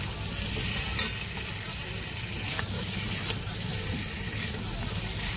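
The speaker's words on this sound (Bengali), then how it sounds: "এখন ভেজে রাখা পটল আর আলুটা দিয়ে দেবো। দিয়ে ভালো করে নাড়াচাড়া দিয়ে দেবো।" Fried pointed gourd and potato being stirred into a spice paste in a pan, giving a steady close sizzle with occasional sharp scrapes of the spoon against the pan throughout.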